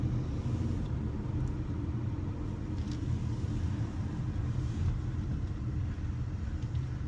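A car engine works hard on a steep mountain road descending from the Chisos Mountains in Big Bend, producing a steady, low, close rumble with road noise throughout and no speech.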